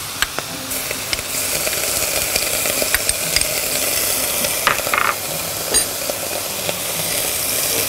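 Garlic fries in hot oil for a quick sauce, with a loud, steady sizzle and the scrape of stirring throughout and a few clinks standing out above the hiss.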